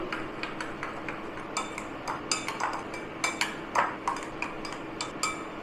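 A utensil clinks quickly and rhythmically against a bowl while beaten egg with chili flakes is mixed, a close run of tapping strikes that grows busier toward the end. Nobody speaks.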